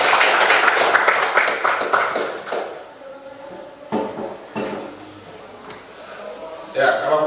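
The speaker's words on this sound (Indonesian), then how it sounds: "Oke, tepuk tangan." Classroom students clap together in a short burst that fades out within a few seconds, followed by quieter scattered taps and knocks alongside a teacher's voice.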